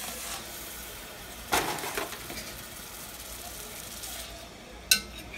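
Brisket meat sears in hot oil in a pot, giving a steady, close sizzle with a few sharp clunks and knocks as the meat is placed and settled.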